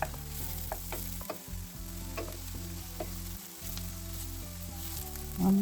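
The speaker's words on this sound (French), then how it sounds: "2 oignons coupés en petits cubes. Voilà, les faire bien revenir." Two diced onions fry in olive oil in a pan, a steady, close sizzle with a few scraping stirs and a louder rise at the very end.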